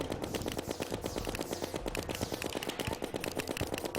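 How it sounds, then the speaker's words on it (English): A Minishark gun firing meteor bullets in Terraria, a fast, unbroken stream of loud rattling shots. "we're actually getting really good damage output with the mini shark and my meteor bullets"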